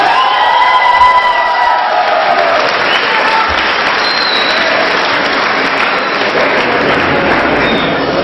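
Loud, sustained applause from a large crowd at an Indian cultural night fills the space, with scattered cheers and whoops over the steady clapping.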